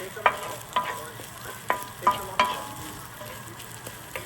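Rice mixed with shrimp paste is stir-fried in a pan for home-cooked Korean-style fried rice, with a soft steady sizzle broken by several sharp spatula scrapes and taps against the pan.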